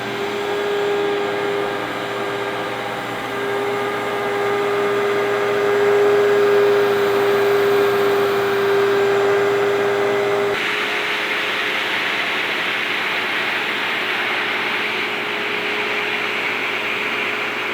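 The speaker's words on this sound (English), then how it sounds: "Okay, now let's try the same vacuum, the same bag, only this time let's use sand." A Tornado CV 30 vacuum cleaner picks up sand with a steady, loud motor hum and whine. Partway through, the sound shifts to a broader, hissing rush that continues to the end.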